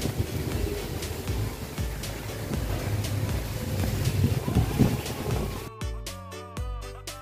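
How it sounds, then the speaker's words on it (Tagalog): Strong, cold wind roars and buffets the microphone in gusts for several seconds at a forest cabin in Tanay, Rizal, Philippines, then gives way to music at the end. "At sa malamig, napakalakas ng hangin."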